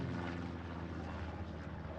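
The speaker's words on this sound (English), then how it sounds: "Where's this recon plane coming in?" Propeller drone of a recon plane passing overhead in the World War II shooter Hell Let Loose, a steady low hum that stays even and continuous with no voices.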